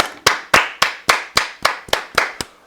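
Ten sharp, evenly spaced hand claps from a small group at a sports talk show, close and loud, each clap decaying quickly before the next, with no talk over them.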